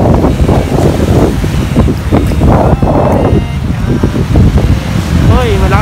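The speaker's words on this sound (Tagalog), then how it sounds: "Hoy, malakas ang hangin." Strong wind blows outdoors after rain, roaring and buffeting loudly close to the microphone in uneven gusts throughout, with a brief warbling tone near the end.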